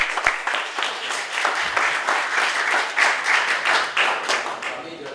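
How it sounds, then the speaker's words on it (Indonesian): Audience clapping at the close of a school seminar on smartphones and students' eye and mental health, a lively rhythmic patter of many hands that holds steady and fades slightly near the end. "Mari kita berikan tepuk tangan yang meriah untuk para"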